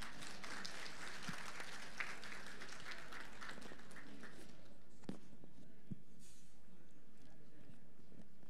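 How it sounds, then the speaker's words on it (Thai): Audience applause welcoming honored guests at a Thai wedding procession ceremony, brisk clapping for the first few seconds that fades away, leaving a quieter room with a few isolated claps and knocks. "ปรบมือต้อนรับท่านค่ะ"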